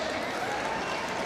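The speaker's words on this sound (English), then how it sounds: "a well-deserved round of applause." Dense applause fills an indoor basketball arena during a tournament ceremony, a steady wash of many hands clapping at once with crowd noise mixed in, unbroken for the whole moment.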